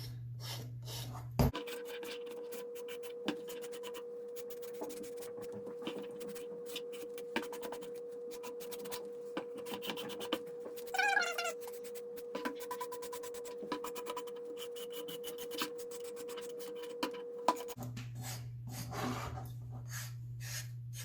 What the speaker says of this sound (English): you can file off the edges.